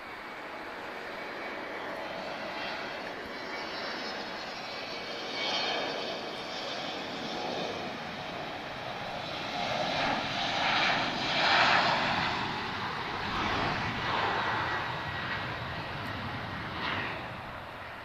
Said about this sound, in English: Embraer E190, he's off to Amsterdam.